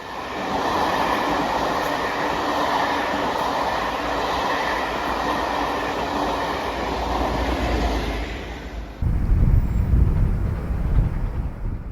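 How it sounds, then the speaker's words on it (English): The Northern Belle luxury train, hauled by a class 57 diesel locomotive with a second one tailing, rumbles past on rails with a steady roar, then a deeper, louder locomotive drone close by near the end. "The return working of the luxury train, the Northern Belle, from Paignton to Birmingham International, hauled by 57313 and tailed by 57314."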